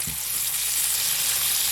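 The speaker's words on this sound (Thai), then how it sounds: "ตั้งกระทะใส่น้ำมันนะคะพอน้ำมันร้อนก็ใส่ปลาลงไปทอดนะคะ" Catfish sizzles in hot oil in a pan, with a steady, close frying hiss after a brief thump at the start.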